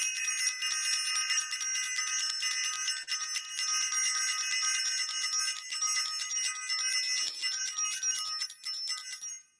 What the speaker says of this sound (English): I want to ring the bell for everybody